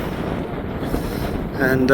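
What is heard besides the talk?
wind blowing outdoors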